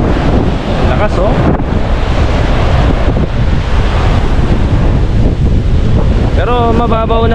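Strong surf breaks on a beach at Dingalan, Aurora, as a loud continuous roar of waves mixed with heavy wind buffeting on the microphone, with a voice briefly audible near the end.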